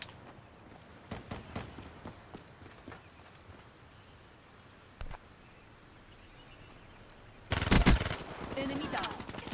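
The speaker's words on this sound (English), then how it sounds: "Maybe this gun is better than I'm saying it and making it out to be." Gunfire in the video game Black Ops 3: scattered faint shots through the first stretch, then a loud burst of rapid automatic fire near the end, with a few more shots after it.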